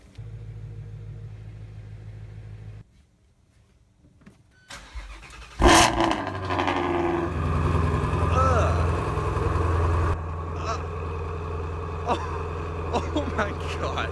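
A Ford Mustang GT350R fires up after a quiet pause with a sharp, loud bark, then settles into a heavy, rumbling idle close by that holds steady and strong. Faint talk runs at the start.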